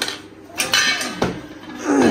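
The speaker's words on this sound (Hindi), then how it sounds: "अभी जो बर्तन सारे सिस्टर गट्टू में डाल रही है।" Metal pots, pans and utensils are packed into a bundle, clanking and scraping against each other in several sharp knocks and rattles, close up, with no talk.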